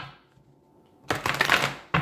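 Tarot cards are shuffled by hand in two quick riffling bursts, close and crisp, after a short quiet pause, with no talk over them.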